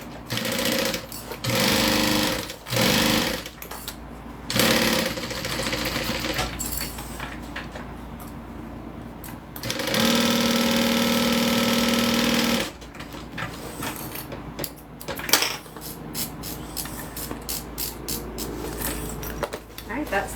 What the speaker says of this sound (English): Let's go ahead and sew our sides together.